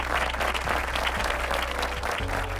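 Steady audience applause fills a convocation hall, a dense wash of many hands clapping at once with constant loudness from start to finish.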